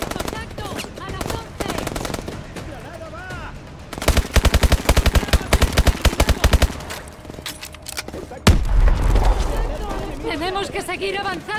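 Rapid Call of Duty: Advanced Warfare gunfire rattles in bursts, with a long automatic volley in the middle and a heavy blast near the end, voices faintly underneath.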